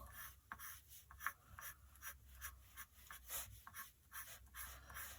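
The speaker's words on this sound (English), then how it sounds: "Now the lines that I'm drawing are going to go" Colouring pencil strokes scratch softly across paper while a tulip petal is drawn, coming as quiet rhythmic rubbing bursts one after another with no talk over them.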